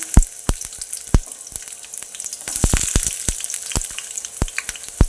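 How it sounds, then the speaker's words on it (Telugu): Fish and onions fry in oil with a steady close sizzle, punctuated by frequent sharp crackles and pops throughout. "ఇప్పుడు ఇది మంచిగా ఫ్రై అవ్వాలి"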